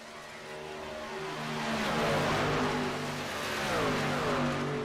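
Race cars roar past at the Chicagoland speedway during a TI SS League championship race. Several engines whine and rise and fall in pitch as they pass, loud and continuous, with no talking.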